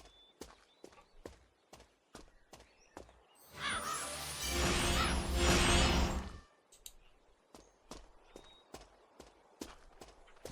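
Crow cawing in the Runes of Magic fantasy game over sharp rhythmic footstep clicks, with a louder burst of effects in the middle before the steps resume.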